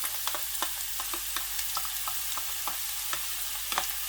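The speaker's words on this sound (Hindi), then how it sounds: "इस तरीके से सारा प्याज ऑयल में ऐड कर देना है।" Finely chopped onion crackles and hisses steadily as it fries in hot oil, with a close, continuous sizzle broken by scattered sharp pops and spatters, no voices.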